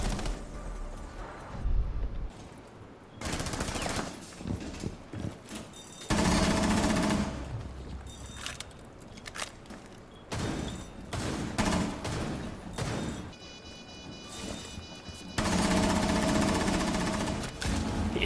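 Rapid automatic gunfire in the video game Rainbow Six Siege, loud sustained bursts of several seconds each with short quiet gaps between them, close and alone.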